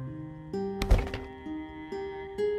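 A sledgehammer tearing down a wooden structure in the video game Project Zomboid, one heavy, sharp thunk of impact over a low, steady game tone with musical notes.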